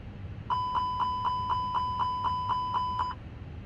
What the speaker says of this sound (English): And wait for that smoke alarm to go away.